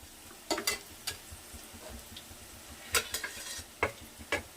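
Onions frying in a pan for a hotel-style mutton biryani, a soft continuous sizzle broken by sharp clinks and scrapes of a spatula stirring in bursts, close up with no talking.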